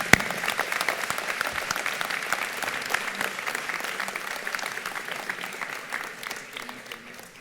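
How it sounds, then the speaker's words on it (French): An audience at a New Year's reception applauds steadily for several seconds, a dense wash of clapping that holds even and fades slightly toward the end, with no talking over it. "Je vous demande de vous applaudir."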